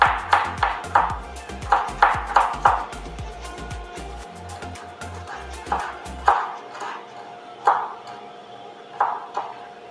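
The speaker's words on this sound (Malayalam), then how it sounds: "ഉള്ളി ഇങ്ങനെ അരിഞ്ഞിട്ട് ചെറുതാക്കി അരിയണം" An onion is cut finely with a knife for a Kerala fish curry made in a clay chatti, giving a run of sharp, evenly spaced chops that slow to scattered single strikes, close and crisp.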